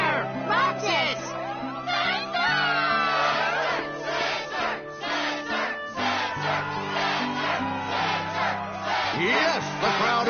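A crowd cheers and whoops in the Struggle tournament arena of Kingdom Hearts, a loud continuous roar of game voices with an announcer talking over it throughout.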